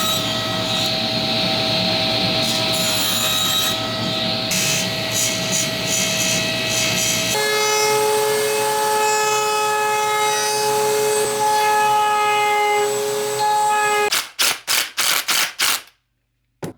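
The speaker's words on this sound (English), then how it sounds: "I can run it through the table saw, spinning it, nibbling away at the excess until I have a perfect circle" A table saw cuts a spinning square of wood into a circle, a loud steady whine with repeated nibbling bites, then the blade's pitch shifts as the cut ends, followed by several sharp bursts as it winds down.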